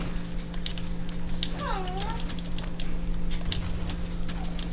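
A cartoonish cat meows once in the Brawlhalla fighting game, a gliding two-note cry set against a steady hum and busy game noise.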